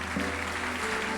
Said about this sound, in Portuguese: Nós aplaudimos o teu nome